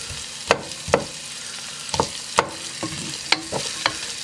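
Onions sizzle in a hot pan for chicken paprikash as a utensil scrapes and stirs them in several sharp strokes over a steady, close frying hiss, with no talking.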